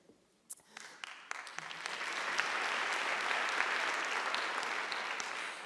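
A convocation audience applauds, scattered claps at first swelling into sustained, even applause that holds steady to the end.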